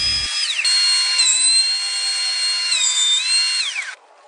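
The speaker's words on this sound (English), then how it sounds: "I took it over to the planer on the planer sled and flattened off one edge" Planer flattening the edge of a wooden American flag cutting board riding on a planer sled, a loud steady high whine that runs continuously for about four seconds, with slight pitch dips as the blades bite, then cuts off.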